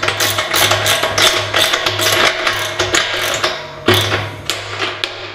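Quick repeated ratcheting clicks come up close as a fitting on a beer keg is tightened down, a brisk mechanical rhythm with small pauses between strokes.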